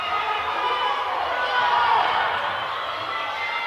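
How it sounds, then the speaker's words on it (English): Basketball fans at a girls high school playoff game cheering steadily for the defense, a sustained crowd roar that swells slightly midway, with no clear voice rising above it. "Dart fans trying to cheer on the defense"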